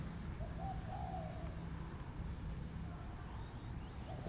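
A bird coos softly a few times from some distance, faint against a constant low background hum.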